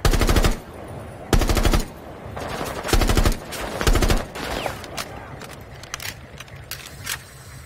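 Automatic gunfire in the video game Rainbow Six Siege, several loud rapid bursts of machine-gun fire separated by short pauses, with fainter shots and game sounds trailing off afterward.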